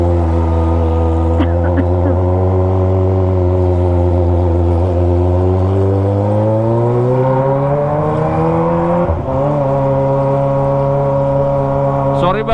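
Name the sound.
Kawasaki ZX25R motorcycle with loud Toce exhaust riding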